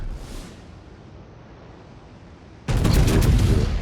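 Battleship Pommern's main guns in a World of Warships clan battle: quiet ambience, then a sudden loud, crackling salvo that keeps rumbling to the end.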